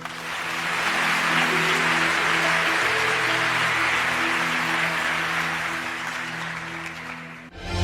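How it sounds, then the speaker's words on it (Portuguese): Applause from a church audience, given to the Lord, swells into a sustained, dense wash of clapping with sustained musical tones beneath it, then cuts off abruptly near the end. "Dê um forte aplauso ao Senhor."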